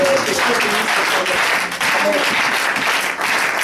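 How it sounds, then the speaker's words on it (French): A church congregation claps loudly during a worship seminar, dense continuous applause with voices mixed in, briefly dipping before carrying on. "Applaudissez pour le Seigneur."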